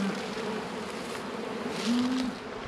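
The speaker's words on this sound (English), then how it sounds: "the bees are out doing quite a bit of orientation flights and doing some foraging." Honey bees make orientation flights and forage around an apiary on a warm late-March day, a dense, steady drone of many wings with a few louder bees passing close.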